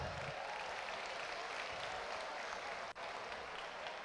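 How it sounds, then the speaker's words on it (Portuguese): A church congregation applauds for a young man named Daniel, a dense, steady round of clapping from a crowd that holds evenly for several seconds. "Salva de palmas pro Daniel."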